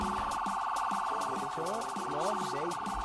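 Several wailing police sirens in the video game GTA (MTA roleplay) sweep up and down together during a chase, loud and continuous, layered over a steady engine hum.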